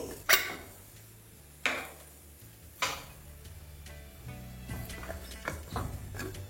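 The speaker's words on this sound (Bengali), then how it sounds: "তাই এর ঢাকনাটা আমি খুলে নেব।" A metal lid is lifted off a pan of cooked mutton, making three sharp, close clanks at roughly even gaps, followed by softer clatter as the pan is handled.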